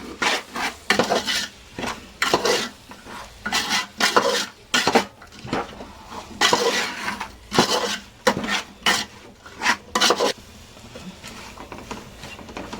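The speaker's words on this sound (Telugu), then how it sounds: "ధనియాల పౌడర్ మొత్తం ఒకసారి మంచిగా కలుపుకుందాం." Coriander powder is stirred into veg pulao in a metal pot, a ladle scraping and clinking against the sides in a run of quick, rhythmic strokes, close and fairly loud, with no talking.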